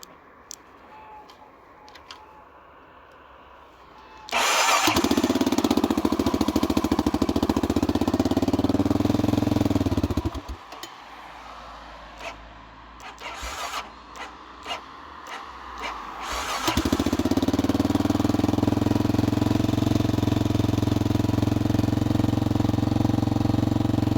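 A Honda NX 650 Dominator motorcycle engine idles steadily after a warm start, close and loud, dropping to a quieter rumble with a few blips midway before the full idle returns.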